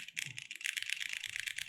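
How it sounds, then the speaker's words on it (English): Steady, fast typing on an Augur custom mechanical keyboard, with crisp, close keystrokes clicking in a continuous, even rhythm and no talking. "I'm normal typing here."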